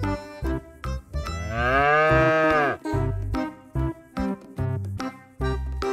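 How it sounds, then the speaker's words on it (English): A cow lets out one long, loud, drawn-out moo in the middle, set between short rhythmic beats of background music. "Cow, 소."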